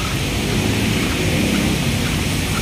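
Steady heavy rain pours along the sidewalk of Manila Bay, a dense continuous hiss with deep low rumbling beneath that suggests thunder, loud and unbroken throughout with no voices.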